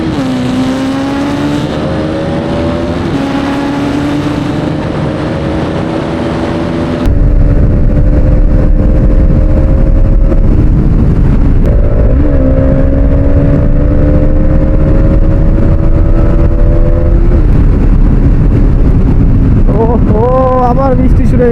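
Hero Xtreme 250R motorcycle riding on a cool, rain-wet road, its engine drone rising and shifting pitch through gear changes, with steady wind rush over the microphone and someone talking over it.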